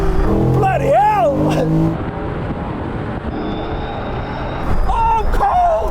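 A Land Rover accelerates hard from a rolling start in a race, a broad roaring engine noise running steadily under excited shouting voices at the start and end.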